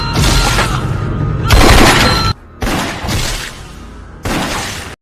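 Gunfire in an action film fight scene, loud dense bursts of shots and crashing blasts in long sustained volleys with brief gaps, close and overwhelming.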